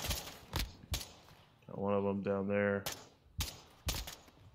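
Sharp gunshots ring out in a shooter video game, several separate bangs spaced across the moment, with a sustained tonal in-game sound in the middle and a player talking briefly between the shots.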